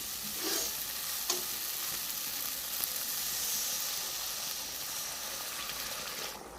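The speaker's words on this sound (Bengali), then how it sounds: "দেখো পরিমাণ মতন জল দিয়ে দেবো।" Water poured into a hot pan of fish curry gravy (bata fish jhal) sizzles with a steady, close hiss and bubbling, with faint stirring clicks throughout and no talking.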